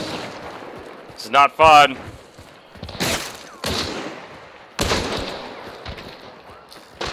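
Gunfire in the video game Hunt: Showdown, several sharp shots in quick bursts at close to mid range, with loud cracks early on and further reports later, mixed in with a player talking.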